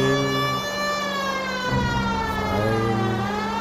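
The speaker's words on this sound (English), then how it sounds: "You know, we've got a siren, Phelps." A police car siren in the video game L.A. Noire wails loudly and nearby, its tone sliding up and down over a low rumbling engine.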